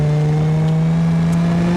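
A 3.5 liter SC3500 V6 engine in BeamNG.drive holds a loud, steady rev, its droning tone climbing slightly in pitch as the revs rise, with no speech.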